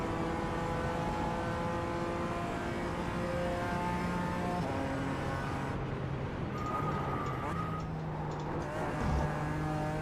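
Nissan GT-R Nismo race car in iRacing at the Nürburgring Nordschleife endurance event, its engine droning loudly and steadily throughout with shifting pitch and a brief tyre scrub late on.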